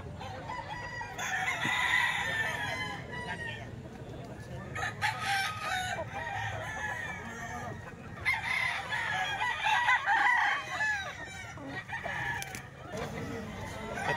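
A Hatch Gray rooster, eight months old, crows and clucks repeatedly at close range over faint background noise.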